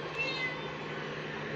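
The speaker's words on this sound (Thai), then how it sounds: "แมวมา" A cat meows once, close and clear, over a steady background hum in a home setting where a bottle of homemade fermented herbal brew is being prepared.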